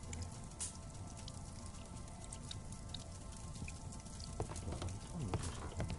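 Rain patters softly in a Sherlock Holmes video game, a faint, steady wash with scattered drips from a leaking roof.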